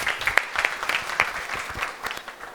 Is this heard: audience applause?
yes